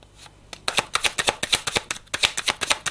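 Cards being shuffled by hand for a card reading: a quick run of crisp riffling flutters and snaps in close, rhythmic bursts after a soft start, with no talking.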